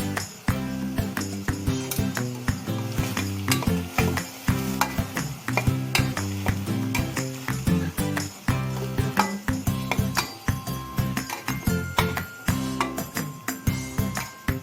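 Chopped onions sauté and sizzle in a pan with oil while a spoon stirs them, giving a steady frying hiss broken by frequent close scraping and clinking strokes against the pan, with no talking.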